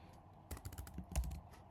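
Typing on a computer keyboard, a short quick run of soft key clicks heard close up and quiet, with no voices.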